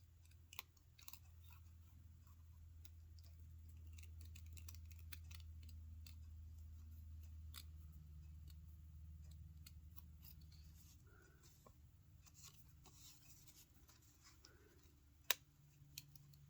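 Scissors make a series of small, quiet snipping clicks while trimming the edges of cut leaves, close and faint over a low background hum.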